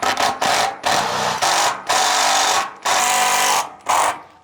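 A power drill drives self-drilling wafer-head screws into flashing on a tiny home build. It whirs in short, loud, close bursts, about seven in quick succession with brief gaps between them.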